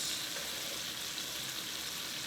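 Steady, even sizzling of salmon frying skin side down in a hot pan, a continuous close hiss with no talking.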